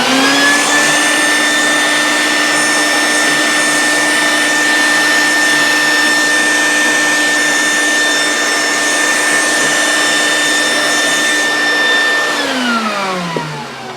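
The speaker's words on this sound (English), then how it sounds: "I'm actually going to turn my vacuum on really fast." A vacuum cleaner runs loud and steady for about twelve seconds with a constant high motor whine, then powers down with a falling pitch as it shuts off while cleaning dust from an Xbox circuit board.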